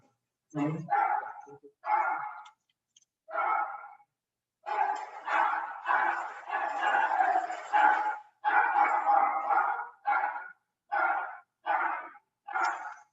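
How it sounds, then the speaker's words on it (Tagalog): A dog barks repeatedly in bursts, close by and loud, with short pauses between volleys and one longer stretch of continuous barking. "excuse me kasi may ingay yung aso namin"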